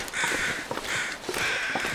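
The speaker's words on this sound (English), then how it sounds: "Man, those are some noisy crows." Crows caw loudly in the video game The Long Dark, harsh repeated calls in two bursts of several caws each, close and clear over a faint ambient background.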